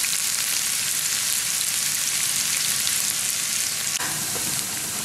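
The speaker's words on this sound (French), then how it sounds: "on va faire frire quelques oignons" Onions frying in oil for a lentil dhal curry, a dense, even close sizzle throughout with a brief dip near the end, no voices.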